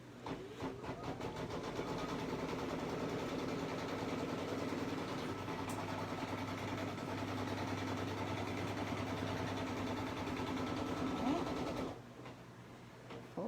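A sewing machine runs steadily, stitching a paper pieced quilt block with a continuous whirring drone before stopping near the end, faint and close, with no talking.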